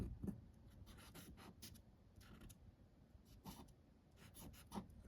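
Marker writing a label on a laptop display board, a string of quiet scratchy strokes in short bursts with soft rubbing between them.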